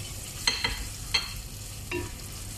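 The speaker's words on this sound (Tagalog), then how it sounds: "Mix lang natin hanggang sa mag-combine yung ating onion, garlic at ang ating ginger." Onion, garlic and ginger sauté in a pan under a soft steady sizzle, with a few short sharp scrapes of a utensil stirring them, close and fairly quiet.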